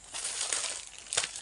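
Tissue paper is handled for a primary-school science practical on detergent and seed germination, giving a steady close crinkling and rustling with two sharper crumpling bursts and no voices.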